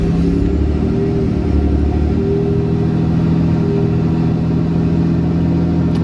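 A truck fitted with a 68RFE automatic transmission pulls away under steady throttle, a loud, close engine drone rising in pitch as it works up through the gears with brief shifts, no voices over it.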